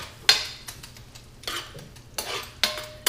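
A utensil stirs mushroom sauce in a pan in a home kitchen, giving several separate scraping and clinking strokes, close and fairly loud, with a faint sizzle between them and no talking.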